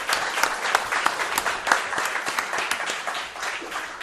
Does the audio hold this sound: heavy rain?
no